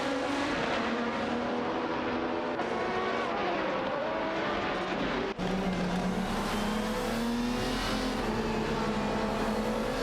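Race car engines, including a Maserati MC12 GT1, drone continuously in a racing video game, a loud layered whine rising and shifting in pitch as the cars jostle for position.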